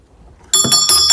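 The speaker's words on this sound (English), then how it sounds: "That was a bell system." Bells ring in a scene from the 1995 film Sense and Sensibility. Silence gives way to a loud burst of bright, ringing strikes, three or four close together with a long shimmering tail.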